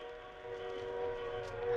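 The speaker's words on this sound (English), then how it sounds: "There's a train coming." Approaching train effect from a 1940s radio drama: a sustained whistle-like tone over a rumbling rail bed, steadily growing louder as it nears, with no talk.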